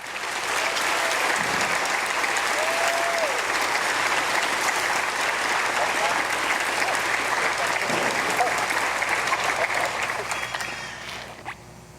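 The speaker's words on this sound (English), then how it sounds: "please join us in giving these fine soldiers a round of applause." A large audience applauds graduating infantry soldiers at a Fort Benning ceremony, broad steady clapping sustained for about ten seconds before tapering off, with faint voices mixed in.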